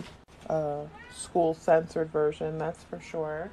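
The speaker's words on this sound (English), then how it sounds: "That was my cat" A house cat meows several times in quick succession, close and clear, the short tonal cries coming in a rapid run over a quiet indoor room with a person speaking softly.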